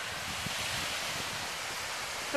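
A steady, soft rush of breeze over open water, a broadband whoosh with faint surf-like texture and no voices.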